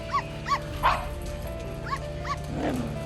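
Dogs at a dog daycare yip and bark in short, scattered bursts over a steady hum of the room, moderately close, with a whimpering note near the end.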